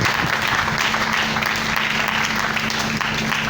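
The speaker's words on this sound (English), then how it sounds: "You have to clap for Jesus." Church congregation applauding together in a worship service, a steady, even roar of many hands clapping at moderate volume with a faint low hum beneath.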